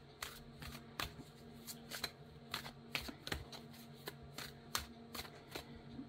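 A deck of tarot cards being shuffled by hand in a quiet room, a series of crisp riffling flicks and slaps in an irregular rhythm, close and clear with a soft low hum underneath.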